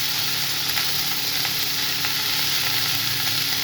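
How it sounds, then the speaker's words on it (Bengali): Potatoes and cabbage fry in a generous amount of oil, giving a steady, close hiss and sizzle that runs without a break, with faint scrapes from stirring now and then. "আলু আর বাঁধাকপি একসাথে দিয়ে দিচ্ছি একটু পরিমাণ মতো বেশি তেল নিয়েছি কারণ সব যেন ভালো করে ভাজা হয়ে যায়"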